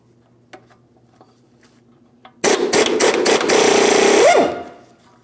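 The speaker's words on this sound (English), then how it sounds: "I'm going to be using a 24mm socket to remove my mounting nut" A power tool with a 24mm socket spins off the lower ball joint mounting nut on a 2007-2014 GMC Sierra 2500 HD front control arm: a loud, sudden burst of rattling impact hammering for about two seconds that ends in a brief rising whine after quiet shop ambience.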